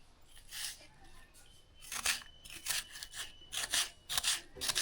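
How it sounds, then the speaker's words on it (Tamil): Knife cutting soft jackfruit pods into small pieces, heard as a run of short, close scraping and slicing strokes that come in uneven bursts, faint at first and then quicker and louder, with no talking. "இப்போ வந்து சிறுசாக கட் பண்ணி எடுத்துக்கலாம்"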